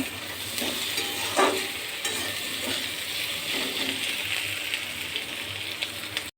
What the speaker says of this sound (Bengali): এরপর পেঁয়াজ ভাজছি মাংসের জন্য